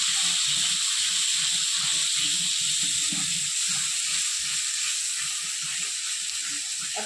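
Spices kasha-fried in a pan for a soybean curry with salt, steady loud sizzle and hiss running throughout with no talk.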